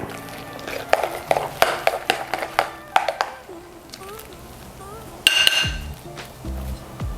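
A spoon clinks and scrapes against a bowl while milk is stirred into a shepherd's pie potato mixture, giving a run of sharp, close taps, then a louder clatter near the end.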